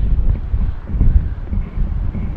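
Strong wind buffets the microphone outdoors by the water during fishing, a continuous low roaring rumble with uneven gusts that rises and falls throughout.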